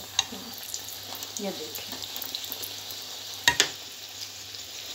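Poori frying in hot oil while being stirred and flipped: a continuous close crackling sizzle with a couple of sharper spattering bursts, and someone speaking briefly over it.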